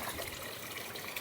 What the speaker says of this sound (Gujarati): પાણી ભરે છે.